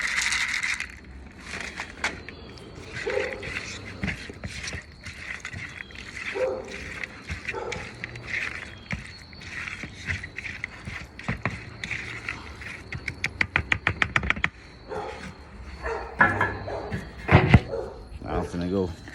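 Dogs bark and yelp in scattered bursts at feeding time, with some rapid barking runs, while someone talks nearby through much of it.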